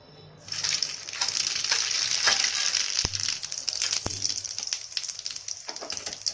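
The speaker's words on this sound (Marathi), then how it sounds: "अर्धा चमचा जिरी मोहरी टाकून घेते" Cumin and mustard seeds sizzle and crackle in hot oil for a dal tempering, a steady bright hiss with scattered pops and two sharp clicks, close and alone without voices.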